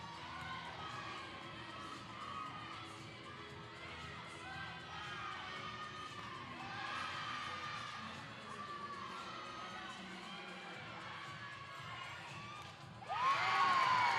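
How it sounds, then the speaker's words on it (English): A crowd in Rec Hall at a college women's gymnastics meet between Penn State and Nebraska cheers and whoops loudly and steadily, with a sharp swell of shouting near the end. "Jessie gets the crowd to cheer for something here in Rec Hall."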